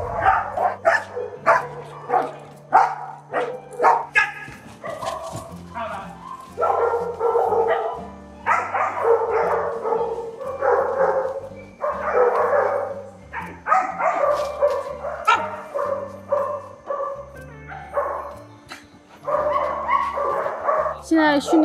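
A trained dog barks repeatedly at a large outdoor dog-training ground, in sharp, fairly close yaps that come in clusters. People talk throughout, and their voices often overlap the barking.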